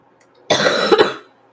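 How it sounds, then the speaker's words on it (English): One person coughs in a single harsh, close burst lasting under a second, with a couple of rough peaks before it fades, and no talking around it. "You guys can listen to my coughs while I die slowly."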